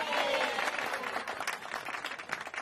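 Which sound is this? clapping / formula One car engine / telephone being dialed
clapping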